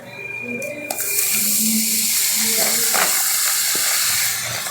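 Ghee sizzles loudly in a pan while atta halwa is cooked, a broad steady hiss that swells after the first second and holds, with faint clinks underneath.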